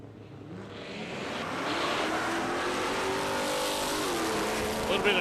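Holden Torana with a 383 Chev V8 at a drag strip, a loud engine roar that builds and holds steady, heard from close by.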